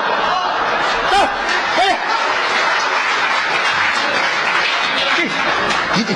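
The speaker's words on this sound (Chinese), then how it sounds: "您还鼓掌" Applause from a crosstalk comedy audience, steady dense clapping that fills the stretch, mixed with scattered laughter and chatter.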